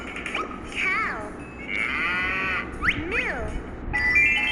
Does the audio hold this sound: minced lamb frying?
no